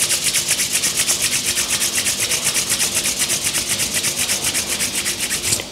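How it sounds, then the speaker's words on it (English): Palms rubbed briskly together during a morning yoga session, a steady rapid swishing friction repeated in an even back-and-forth rhythm for several seconds, close and fairly loud with no talking. "Rub your palms together."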